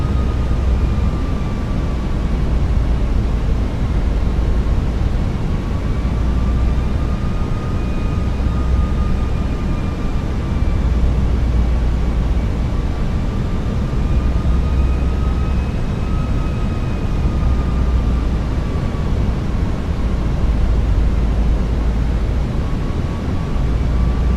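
Airbus A320 on final approach in a flight simulator, a loud steady engine and airflow roar with a faint wavering whine above it, continuous throughout with no speech.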